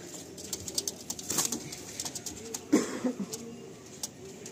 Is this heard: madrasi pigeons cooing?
yes